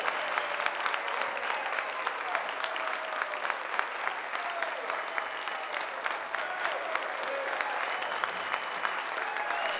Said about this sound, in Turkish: Alkışlar da yerlerine alalım.